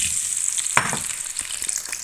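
Large-cut potato cubes frying in oil for fish biryani, a dense close crackling sizzle with bubbling pops and one brief clatter near the start.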